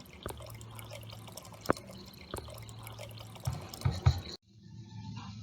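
Water pours turbulently from an outlet in a lab experiment measuring flow, a close, steady splashing stream with dripping and gurgling spurts that cuts off abruptly near the end, leaving quiet.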